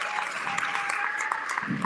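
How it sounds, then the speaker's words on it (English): Applause at a Disneyland Paris 30th anniversary grand finale gala, a large crowd clapping steadily and densely in a reverberant hall, loud and continuous. "I think we can give them a big round of applause"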